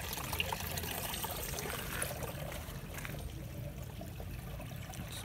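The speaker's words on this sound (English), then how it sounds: "It's a bubbling creek." Cold mountain-fed creek water bubbles and trickles over an outdoor streambed, a soft, steady wash of flowing water close by with no one talking.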